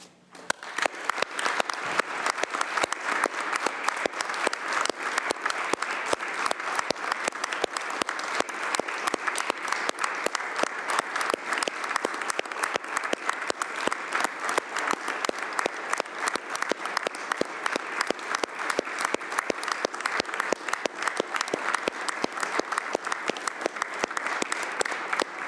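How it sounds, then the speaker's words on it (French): Sustained applause fills a departmental council chamber during a session held in support of Ukraine, a dense, even clapping from many people that continues steadily without break for a long stretch. "Je vous remercie pour cette minute d'applaudissement"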